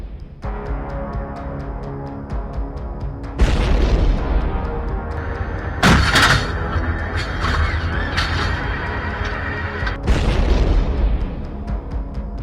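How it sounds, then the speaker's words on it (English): Artillery fire on the Ukraine front lines, heard as three heavy booms spaced several seconds apart over a constant loud rumbling background. "Пострел! Пострел!"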